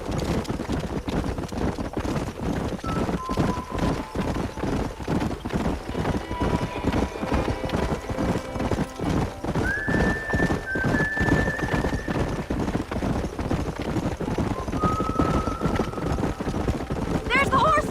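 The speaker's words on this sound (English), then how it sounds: "There's the horses!" Horses gallop in the Red Dead Redemption video game, with a steady fast clip-clop of hooves throughout, occasional whinnies and whistling wind, loud and close.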